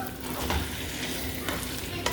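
Black pepper chicken stir-frying in a pan, with a dense continuous sizzle and a couple of spatula scrapes, close up with no talking.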